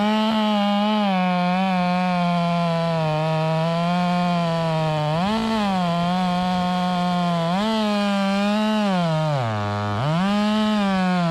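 A chainsaw runs steadily and loud, its engine pitch bogging down and revving back up several times as the chain bites into a red oak log.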